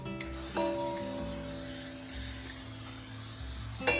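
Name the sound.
cooking spray sprayed onto a 9 by 13 baking pan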